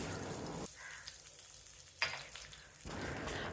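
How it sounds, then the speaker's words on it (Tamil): Crushed cumin and black pepper fry in hot ghee, giving a close, crackling sizzle that dips briefly quiet and then flares up again. "இந்த சூடான நெய்யிலேயே லேசாக வறுத்தா போதும்."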